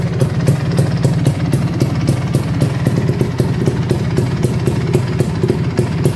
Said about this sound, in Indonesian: Dan ini suaranya, suara dari knalpotnya nih.